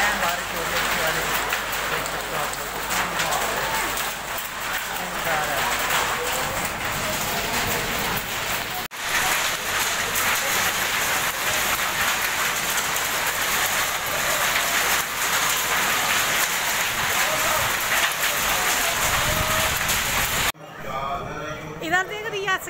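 Steady heavy rain hisses and patters on a surface, with hail rattling in, loud and continuous, on the way to Vaishno Devi, with voices talking over it before it cuts off near the end.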